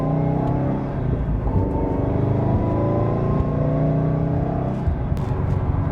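A Subaru WRX STI engine blips up in revs during a heel-and-toe downshift, a loud close-up growl that climbs and falls with a rough low rumble and steady drive noise, no voices.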